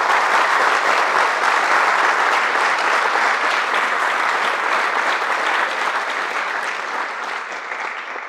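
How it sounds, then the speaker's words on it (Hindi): Sustained audience applause for a teacher at a career-guidance session in a lecture hall, dense and steady clapping from a large crowd that fades slightly toward the end, with no talking. "तो पहले तो एक बार तालियां होनी चाहिए सर के लिए।"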